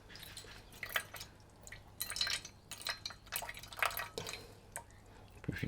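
Water trickles and drips into a container sitting on digital scales, measured out to about 60 grams for candle making, with intermittent splashy pours close by and brief talk between them.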